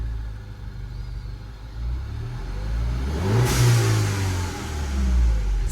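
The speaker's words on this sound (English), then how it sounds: "That's the blow-off valve that you're hearing." A Mini Cooper N18 engine revs up with a swelling drone, and a short whooshing hiss from the blow-off valve sounds mid-rev before the engine rises again, close and fairly loud.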